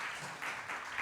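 A church congregation applauds a visiting pianist, a faint, steady wash of clapping heard from a distance.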